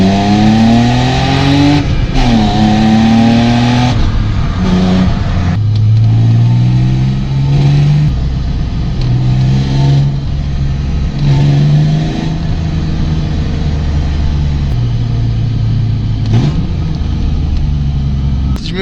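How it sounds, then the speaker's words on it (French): A six-cylinder car engine revved hard through repeated rising and falling sweeps, loud and close, with a possible fault, alone without talk. "regardez, je vais accélérer."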